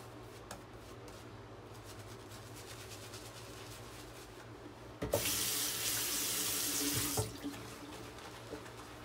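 Tap water runs into a sink and onto a shaving brush knot, a quiet trickle that swells into a louder, steady gush for about two seconds before dropping back, with small clinks and handling noises.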